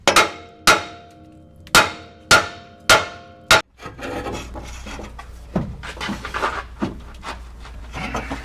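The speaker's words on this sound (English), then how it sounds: "we're going to tap that cross member forward while we're holding the pan" Six sharp metallic hammer taps on the transmission cross member of a 1997 Land Rover Defender 90, spaced about half a second to a second apart and ringing briefly, followed by rustling, scraping workshop handling noise.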